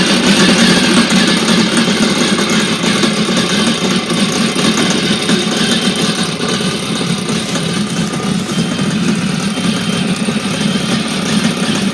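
A four-stroke jet ski engine runs steadily out of the water to blow water from the system, a loud, close, rough idle with constant vibration and no talking.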